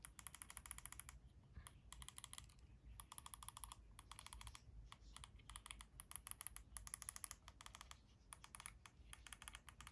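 Small side buttons on a Razer Naga Pro modular wireless gaming mouse clicking in rapid, steady bursts with brief pauses, crisp plastic clicks heard close and quiet with no talking.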